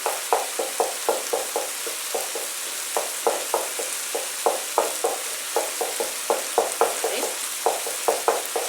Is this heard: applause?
no